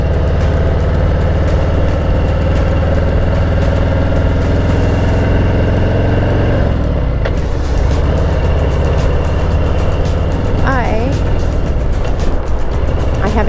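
A Harley-Davidson Heritage motorcycle engine runs loud and close in a steady, smooth low rumble, with a short dip in revs partway through and a voice faintly over it.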